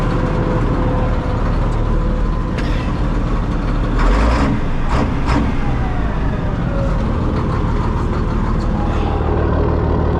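An old Peterbilt truck engine idles after about half an hour of running, a loud, steady low diesel rumble that holds unchanged throughout with no talk.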